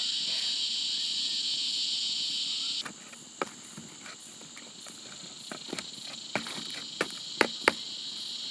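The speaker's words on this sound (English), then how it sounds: "Last song from the cicadas before they go to bed, hopefully." Dense, steady high-pitched buzzing of cicadas in the bush at dusk that abruptly drops off partway, leaving a quieter drone with scattered sharp clicks and taps.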